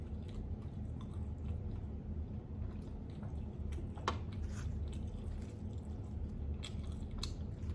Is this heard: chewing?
yes